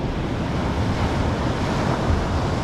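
Ocean surf breaking steadily at close range while fishing from the water, a dense continuous wash of waves with some wind buffeting the microphone, no voices.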